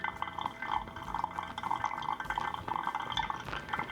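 Water poured in a thin, steady stream over Papua New Guinea coffee grounds in a pour-over brewer, a continuous soft trickling and dripping with faint glassy ringing, close and gentle throughout.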